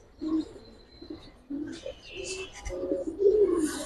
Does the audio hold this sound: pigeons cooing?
yes